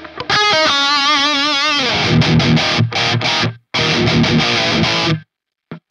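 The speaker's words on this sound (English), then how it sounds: "I think the reverb should now be on" Electric guitar played through a ToneX pedal with reverb on, loud distorted chords and fast picked notes, with abrupt stops where the ringing tail cuts off.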